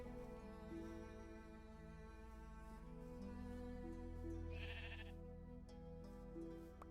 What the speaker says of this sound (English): I managed to grab 3 sheep and 1 cow.